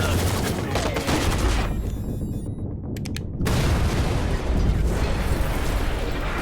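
Repeated shotgun blasts fire in the Fallout 76 video game, loud dense booming bursts that fill the clip, with a brief quieter gap partway through before the heavy gunfire resumes.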